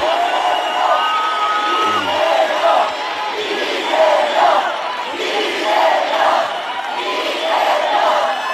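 Big outdoor political rally crowd at a candlelight event near the National Assembly in Seoul, cheering, whooping and clapping loudly and continuously, with waves of shouting swelling and falling throughout.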